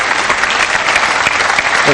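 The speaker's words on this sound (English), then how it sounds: "And they gave him everything but a standing ovation after that pot." An audience at a professional pool match between Mika Immonen and Ralf Souquet bursts into sustained, dense applause after a difficult pot, steady and loud throughout with commentary voices mixed in.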